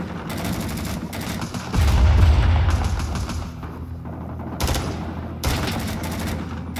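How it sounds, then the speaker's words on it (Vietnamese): Sustained gunfire in Rising Storm 2: Vietnam, a loud continuous clatter of rifle and machine-gun bursts with heavy booming swells, close and dense, with no talking over it. "Ơi, nó bắn bên phải cơ thằng."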